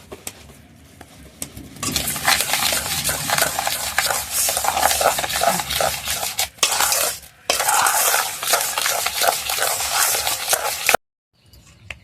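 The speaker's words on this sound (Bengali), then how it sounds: "হাফ কাপ সাদা তেল দিলাম, এর মধ্যে চিনির মধ্যে দিয়ে দেবো। দিয়ে এই চিনিটাকে ভালো করে ফেটে নেব।" Sugar and half a cup of white oil being whisked together in a bowl for a vegetarian palm cake batter, a steady fast scraping and clinking of the whisk against the bowl that runs for about nine seconds and then stops abruptly.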